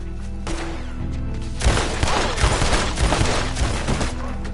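Heavy gunfire in Red Dead Redemption 2, a dense fusillade of rapid shots that erupts after a low rumbling start and keeps cracking and thudding at close range.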